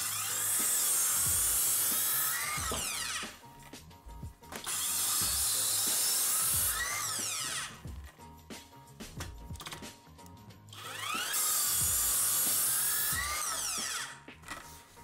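A cordless circular saw cuts through an ordinary 25 mm wooden board, passing over a nail. There are three loud, sustained cutting runs with the motor spinning up and winding down between them, and no talk.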